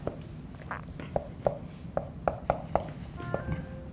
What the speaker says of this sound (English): I'm going to write the integral down first.